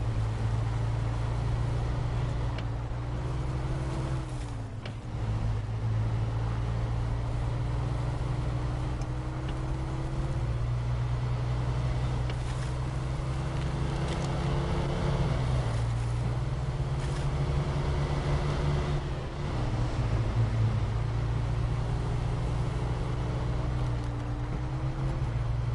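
Chevrolet truck on mud tyres crawling through soft sand in SnowRunner, a steady low engine drone with shifting revs rising and falling throughout, loud and unbroken.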